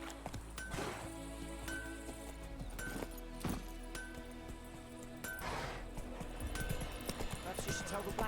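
Rhythmic horse hoofbeats clop steadily with faint jingling in The Witcher 3 on PS5, over a busy game soundscape, while a voice talks intermittently.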